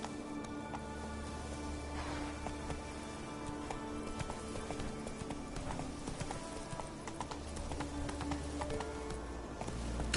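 Roach, a horse in The Witcher 3, galloping with steady rhythmic clip-clop hoofbeats throughout, moderately close, over a faint ambient background.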